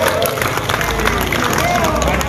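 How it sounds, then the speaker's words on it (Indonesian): An audience gives a round of applause at a gathering, dense steady clapping blended with crowd murmur while a voice carries over it. "Tepuk tangan dulu untuk Kasium kita ini."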